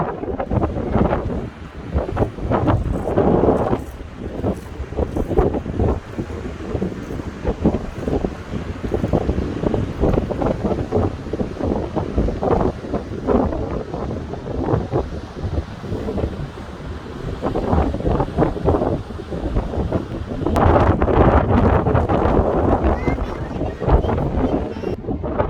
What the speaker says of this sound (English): Because it's very windy, the waves are spectacular.